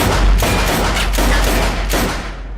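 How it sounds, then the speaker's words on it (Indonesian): Repeated gunfire from a film as a detective shoots a masked psychopath again and again, a loud dense fusillade of overlapping shots that runs the whole stretch with no clear gaps. "Detektif King pun datang dengan menembak psikopat itu berkali-kali"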